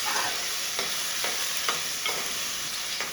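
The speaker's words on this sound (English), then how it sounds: "Add tomato pieces into the pot. Stir fry until fully soft and juicy." Tomato pieces sizzle as they are stir-fried in a clay pot, with a steady close frying hiss broken by regular scraping strokes of stirring and no voices.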